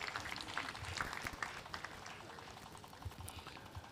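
Scattered applause from an outdoor crowd at a groundbreaking ceremony for a housing estate, a loose patter of claps at moderate distance, fairly faint and thinning out toward the end.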